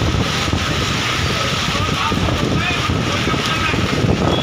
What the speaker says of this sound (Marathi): मोठं तुफान वारा जे आहे ते सुटलेलं आहे।